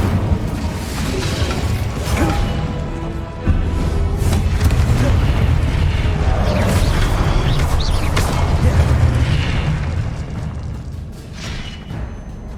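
An Incendio fire spell cast in Hogwarts Legacy, a loud sustained whooshing burst with booming, crackling impacts and rumbling game effects, dense and continuous over several seconds.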